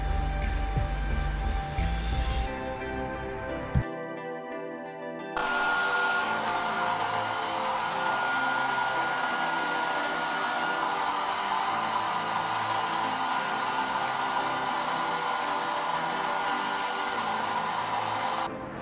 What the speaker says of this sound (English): I went ahead and I just blow dried it